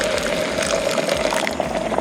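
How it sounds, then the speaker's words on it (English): Water poured into a very hot pot on a Jetboil camping stove, a steady hissing, bubbling fill that runs continuously for two seconds, close and fairly loud with no talk. "And trickle in some water."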